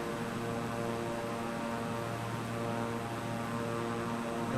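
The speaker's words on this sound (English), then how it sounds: "After that we land the plane straight down the airport on the other side." Airplane engine drone from a flight simulator game set over Japan near Mount Fuji, a steady propeller-like hum with tonal harmonics holding evenly throughout, loud and continuous with no talk.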